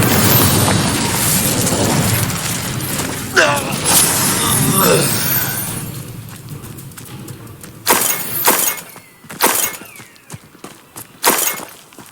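Spells cast in rapid succession during Hogwarts Legacy combat, including the Incendio fire spell: a loud, dense burst of crashing, shattering magic for several seconds, then a quieter stretch broken by sharp separate cracks and impacts.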